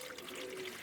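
Water is poured out for pigeons in a brief, faint, steady trickle with no talk over it.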